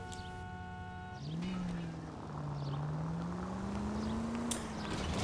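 Car driving in the L.A. Noire video game, its engine droning steadily with a pitch that dips and then slowly climbs, close and continuous, with a brief tonal sound at the start.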